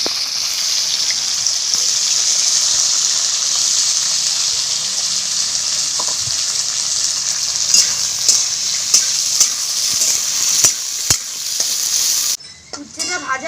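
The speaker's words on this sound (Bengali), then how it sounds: "এবার এই মাছ ভাজার তেলে আমি উচ্ছেটা ভেজে নেব।" Slices of bitter gourd fry in oil left over from frying morola fish, giving a loud, steady, close sizzle throughout. Light clinks of stirring come near the end as the hiss cuts off.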